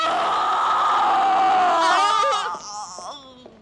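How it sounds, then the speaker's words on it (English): A horrible, guttural scream from the 1976 psychological thriller film The Tenant, drenched in echo and electronically processed, wailing loudly and continuously before breaking into wavering, decaying cries as the echo trails off. "Horrible scream that is just with echo. Going on and on and with echo."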